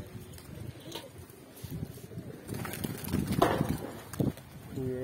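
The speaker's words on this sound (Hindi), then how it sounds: "जो मेरे उड़ने वाले कबूतर हैं सारे उड़ रहे हैं" Pigeons coo and flutter nearby while being flown, with bursts of wing flapping and soft calls over background voices talking.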